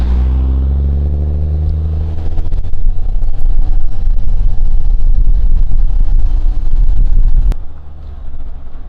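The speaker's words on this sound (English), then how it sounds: "sounds way different than my truck. We're whistling like crazy over here." A powerful pickup truck engine revs up and accelerates, its deep rumble swelling loud and close with a high whistle riding on top, then cutting off sharply into a lower idle.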